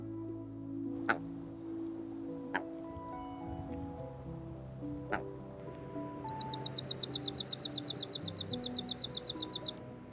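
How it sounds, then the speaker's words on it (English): A male Arctic warbler sings in the willow scrub of Denali, Alaska: a fast, high, dry, buzzy trill of evenly repeated notes lasting several seconds. Before it come a few sharp isolated ticks over a low, steady background hum. "The Arctic warbler migrates to Denali from Southeast Asia."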